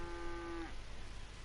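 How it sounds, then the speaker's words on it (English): A cow mooing in Red Dead Redemption 2, one single low, steady moo that is held for about half a second and then drops off, quiet against a faint ambient hiss. "How cool are these moos?"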